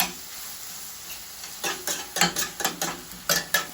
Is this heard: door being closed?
no